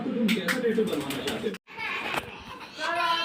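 Pigeons coo and flutter nearby at a pigeon loft in a loud, busy outdoor setting, with children's voices and chatter mixed in throughout.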